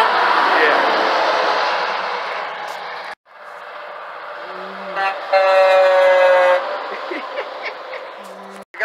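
Truck air horns on a 1970s Kenworth and other big rigs blare in Vermont, a long sustained honk with harmonic tones rising over steady engine and road noise, while people talk nearby.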